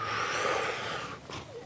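Forceful breathing-exercise breaths, a long rushing exhale followed by a short sharp intake, close and alone with no talk.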